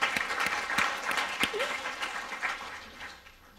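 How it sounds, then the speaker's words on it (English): A small group applauding at an academic talk, scattered individual claps with a few sharp close ones, fading out over a few seconds. "I'm going to clap for that."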